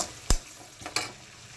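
Onions frying in a pan, a brief, fairly quiet sizzle with a couple of sharp pops and crackles.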